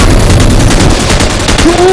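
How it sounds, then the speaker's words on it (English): Gunfire in a multiplayer shooter video game: a loud, continuous rattle of rapid automatic shots fills the two seconds, harsh and close, with no one speaking. "He shot me through the freaking box."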